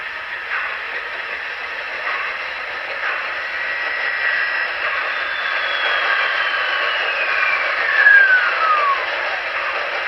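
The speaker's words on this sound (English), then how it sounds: "So you can hear the compressor running." A model railroad locomotive's compressor runs as a steady, even hiss throughout, with a faint thin tone gliding across it near the end.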